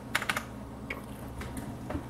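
A computer keyboard used to navigate a PC's BIOS gives a short burst of light key clicks, close and fairly quiet, with no talking.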